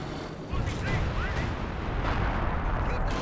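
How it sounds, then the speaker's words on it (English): Machine gun fire in the Company of Heroes 2 strategy game, a dense, continuous clatter of gunfire and battle noise with heavy low-end rumble, loud and sustained after a brief quieter opening, with a commentator's voice mixed in. "the machine gun shutting down the rifleman"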